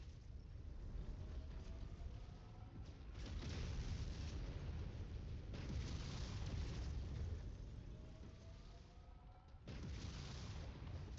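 A mech is blown apart in the MechWarrior 5 video game, heard as a sustained, rumbling wash of deep booms and blasts that swell and fade in waves across the stretch, with no talk over it.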